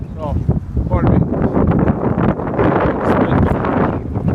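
Strong wind buffets a handheld microphone outdoors during a violent wind warning, roaring as a loud continuous rumble with gusty surges throughout and someone talking over it.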